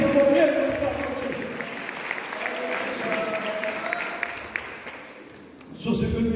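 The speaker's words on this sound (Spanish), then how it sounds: "Dale palmas al Señor" A church congregation claps for the Lord during a worship service, a mass of clapping running under a voice speaking over it, with a brief lull near the end before louder sound returns.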